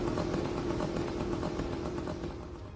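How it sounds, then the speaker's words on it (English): The small two-stroke engine of a Shahed kamikaze drone buzzes like a moped, a steady, continuous droning rasp at moderate loudness with a slightly rough pulsing texture throughout. "in this modern battlefield you will be hearing a two-stroke moped buzzing in the air"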